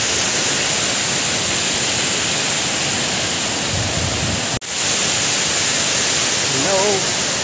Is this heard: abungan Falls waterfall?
yes